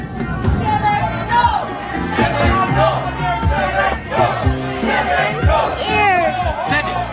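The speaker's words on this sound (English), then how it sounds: "there's a crowd around the spaceport" A crowd gathers around a spaceport, its many voices overlapping in a loud, restless clamour with scattered shouts and calls rising above the babble.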